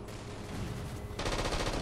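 DMR rifle fire in a Halo 4 Infinity Slayer match on the Abandon map, faint and distant at first, then a louder run of quick repeated shots near the end, with no talking.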